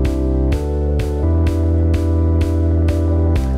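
FL Studio track playback of a sidechained Mini Synth bass with claps and a real-sounding drum kick: loud pumping bass pulses ducking on each regular kick hit, with sharp claps in a steady dance rhythm.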